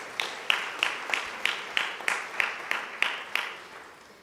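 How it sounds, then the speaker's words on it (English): Audience applause for spellers at a district English spelling bee: a thin, evenly paced run of about a dozen distinct claps, fairly faint and fading toward the end. "Big round of applause for our spellers"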